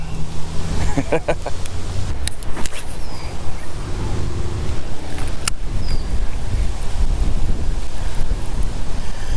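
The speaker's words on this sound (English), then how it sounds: "it's very windy out here" Strong wind buffets the microphone without letup, a heavy low roar with occasional thumps and rattles throughout.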